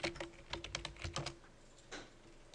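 Rapid keystrokes clatter on a computer keyboard while commands are entered in Rhino 3D modelling software, a quick irregular burst of close, crisp taps followed by a couple of softer strokes.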